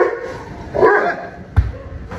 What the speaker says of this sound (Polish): Ale zadyma, bo tu dwa psy są